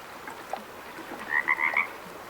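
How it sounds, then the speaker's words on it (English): Loud, close frog croaking in the hunting game Way of the Hunter, a run of four or five quick rasping calls over a quiet nighttime ambience. "Oh, that's a super loud frog."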